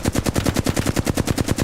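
Rapid automatic gunfire in a RuneScape-style online game, a steady burst of about fifteen evenly spaced shots in under two seconds, loud and close with no talking.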